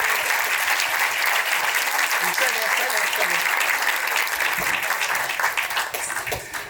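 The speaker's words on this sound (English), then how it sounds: "Give them a round of applause, please, for being such good sport." Audience applause for contestants at a Melbourne International Comedy Festival comedy show, steady dense clapping from a large crowd that holds loud and even throughout, thinning slightly near the end.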